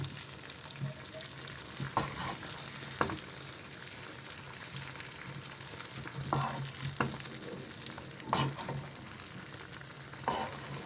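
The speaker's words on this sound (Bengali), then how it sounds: "সামান্য কিছু মশলা ভালোভাবে একটু নাড়া দিয়ে দিচ্ছি" Olive pickle with spices cooks in a pan, with a soft steady sizzle and periodic scraping stirs of a spoon against the metal, close and moderately quiet.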